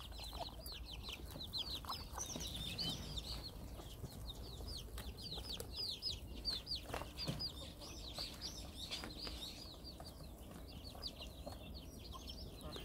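Korean native chickens, Araucana-type green-egg hens and roosters cluck and chatter continuously at morning feeding on a farm, with the overlapping calls fairly soft and steady.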